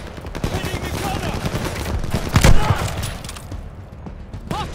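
Machine gun fire aimed at a half-track in the World War II video game Call of Duty: Vanguard, rapid bursts and booming shots layered over battle noise, with a sharp loud impact midway and shouted voices.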